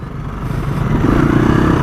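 A Husqvarna FE250 off-road motorcycle engine burbling and clattering close by while engine braking down a descent in low gear, a steady mid-pitched putter that grows slightly louder.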